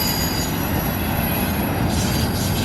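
A CN intermodal freight train heading westbound, led by two SD75I locomotives, rolls past continuously and loudly with steady wheel roar and rail noise throughout, and no voices.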